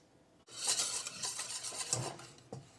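A whisk rattles quickly against the sides of a bowl while mixing pancake batter ingredients before oil is added. The scraping and clinking is close and continuous for a couple of seconds, with no talking.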